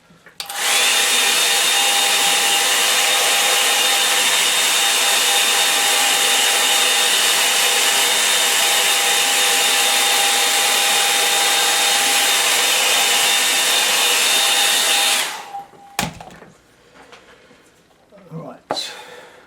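A hair dryer blows loudly and steadily at close range for about fifteen seconds while drying a line-and-wash watercolour painting, then switches off, leaving quiet handling noises.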